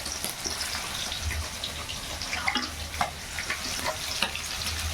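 Fish fat frying in a pan, a moderate steady sizzle and bubbling with scattered pops and stirring clinks, close by and with no talk.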